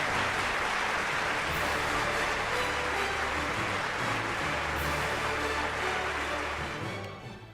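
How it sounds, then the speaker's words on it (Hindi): Dense, steady applause from an award ceremony audience, loud and sustained for several seconds before tapering off at the end. "a big round of applause"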